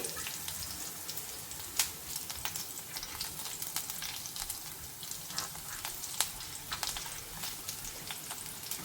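Paneer curry base fries in a pan over low gas, a soft continuous crackling sizzle with scattered faint pops and an occasional clink, fairly quiet and without speech.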